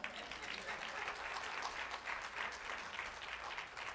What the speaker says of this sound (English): you give that a round of applause.